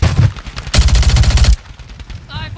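Bursts of rapid automatic gunfire in the video game Call of Duty: Warzone, two loud rattling volleys back to back, then quieter scattered shots under faint voices.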